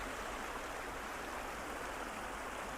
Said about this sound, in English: We come back to the creek.